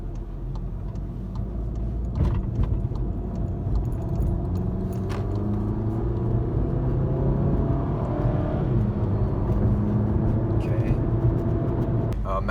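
A Volkswagen Golf GTI Mk7 with a DSG gearbox, driven in manual mode, hums steadily from inside the cabin with a low, continuous engine and road drone and faint rattles, while a voice talks over it.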